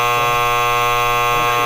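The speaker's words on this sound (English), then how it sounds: "Why does it sound like two buzzers like combined?" Two buzzers sound together as one steady, loud electronic drone with a harsh, layered tone, continuous and unbroken with no voices.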